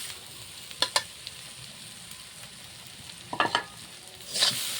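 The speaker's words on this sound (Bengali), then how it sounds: "নারকেল ভালো করে ভেজে নিতে হবে।" Grated coconut frying in a pan with chilli powder and spices, a low steady sizzle broken by a few sharp scraping stirs of a spoon, with a louder rustle near the end.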